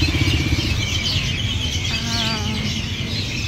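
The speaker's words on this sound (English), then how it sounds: "There are so many birds here." Many birds chirp at an outdoor fresh market in Surin, Thailand, their calls steady and busy over a constant roar of passing motorcycles and traffic, with a brief warbling run in the middle.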